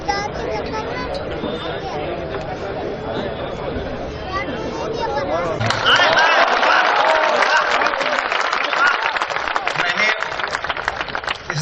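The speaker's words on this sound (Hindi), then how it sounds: "जोरदार तालियां।" Audience applause at a Hindi kavi sammelan poetry recital in Bhopal, greeting Colonel V P Singh, swelling from crowd chatter into loud, sustained clapping that fills the second half.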